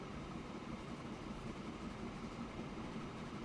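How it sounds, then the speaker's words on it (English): Several trains run on a Greater Manchester rail map in a building game, making a steady, distant, even rumble with no distinct clicks or horns. "Multiple trains going to multiple destinations"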